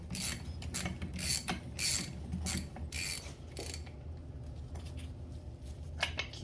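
A wrench tightens a Jims cleve block tool resting on a workbench, for cleve blocks in a Shovelhead Harley swingarm, with repeated close metallic ratcheting clicks and scrapes in uneven bursts and no talking.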